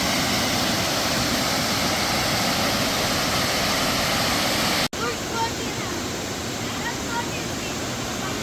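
A forest waterfall at Kothayar, running low in a dry spell, gives a loud, steady broadband rush of falling water that continues unbroken apart from a brief cut midway.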